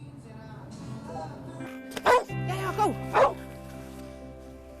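Emma, a dog on the ski slopes of Davos, barks three sharp times nearby over a low steady hum, with a voice heard early on.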